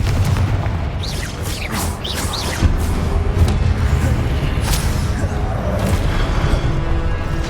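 Repeated booming Confringo explosive spell blasts in Hogwarts Legacy combat, dense and loud throughout, with heavy low rumble and crackling bursts overlapping one another.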